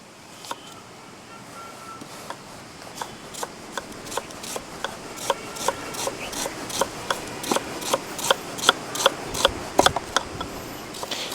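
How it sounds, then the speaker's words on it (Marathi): Onions being sliced thinly with a knife on a cutting board, a steady run of crisp, evenly spaced chopping strikes that grow gradually louder and quicker, heard alone. "कांदा आपण चिरून घेऊया आता"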